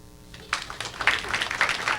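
Audience at a live comedy show breaks into scattered clapping and cheering that builds quickly after a brief quiet moment.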